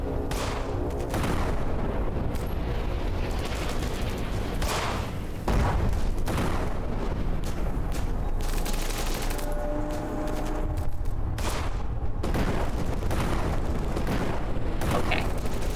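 Gunshots ring out in the horror video game In Sound Mind as mines are shot, heard as loud, repeated blasts and bursts of fire over a constant rumbling game background.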